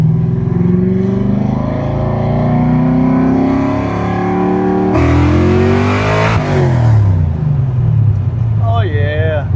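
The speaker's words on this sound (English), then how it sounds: "we're gonna attempt to take off with an Anderson N111 camshaft in second gear" Car fitted with an Anderson N111 camshaft launches in second gear with a manual gearbox, its loud, lumpy engine note climbing through the revs before a shift, then pulling again, with speech over the top.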